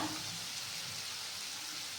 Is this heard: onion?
yes